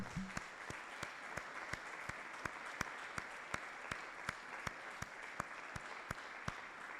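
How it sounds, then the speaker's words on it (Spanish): A church congregation applauds faintly and at a distance, a soft, even wash of clapping with sharp ticks recurring at a regular pace throughout. "¿por qué no los aplaudimos?"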